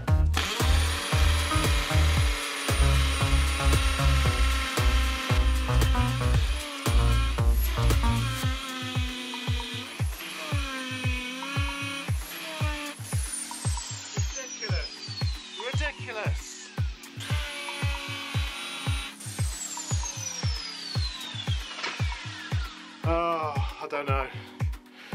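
A Makita hire drill bores into a hard concrete garage floor to set anchor bolts, giving steady rhythmic grinding pulses, with a voice talking over it at times.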